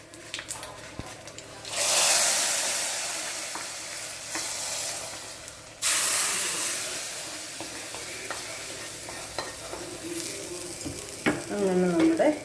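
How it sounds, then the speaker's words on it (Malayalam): Hot spice tempering hits a green peas masala curry in a few loud sizzling bursts, with spoon stirring and clinks between them in a home kitchen. "നമ്മുടെ താളിപ്പ് നമ്മുടെ കറിക്കകത്തോട് നമുക്ക് ചേർത്ത് കൊടുക്കാം."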